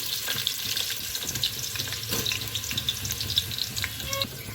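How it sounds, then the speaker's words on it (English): Onions and green chilies fry in a pan with a steady sizzle and crackle, along with occasional stirring clinks, close and fairly loud. "You need to fry these onions and chilies until it's golden brown."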